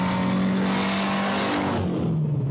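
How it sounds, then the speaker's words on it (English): A turbocharged electronic four-cylinder car engine from the early 1980s drones loud and close with a steady tone, then drops in pitch and fades slightly as it eases off. "Turbocharging helps the new electronic four-cylinder engine to move like an eight-cylinder hot rod."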